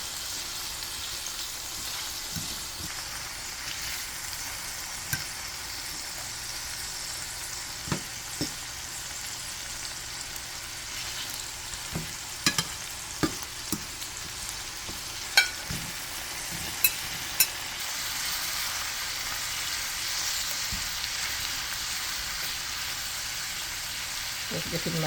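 Vegetables and tomato sauce fry steadily in a pan, a continuous close sizzle broken by scattered clicks and taps of stirring, with a little faint talk underneath.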